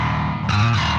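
Distorted heavy metal bass guitar sounds out of phase with its DI signal: a short, thick, buzzing note that swells briefly in the middle, loud and close.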